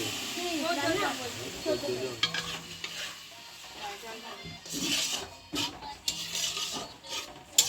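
A spatula stirs food in a pan during home cooking, with scraping and soft sizzling through most of the stretch and a few louder clanks near the end. A person talks in the background.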